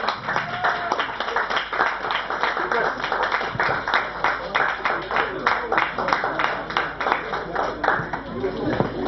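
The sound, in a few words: audience applause at prize ceremony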